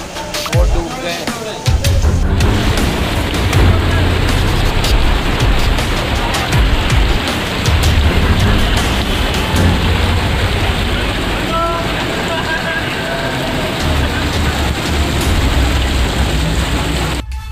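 Heavy rain in Karachi pours in a loud, continuous roar with splashing on surfaces and some wind buffeting the microphone. It runs steadily, with faint background voices beneath it.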